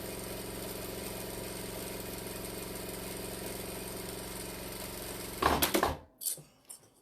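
A sewing machine stitches through a faux leather tote bag, a steady close mechanical whir running for several seconds before stopping with a few clunks and clicks.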